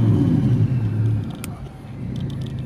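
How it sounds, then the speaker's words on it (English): An Audi R8 with a twin-turbo V10 engine gives a close, steady low rumble that eases slightly partway through, with no talking. "Just hearing the sound of those turbos is unbelievable."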